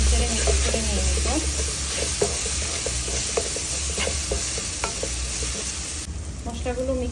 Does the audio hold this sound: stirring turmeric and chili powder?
yes